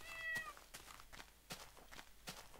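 A video game cat meows once, short and clear, followed by faint soft thuds and footsteps at a low level.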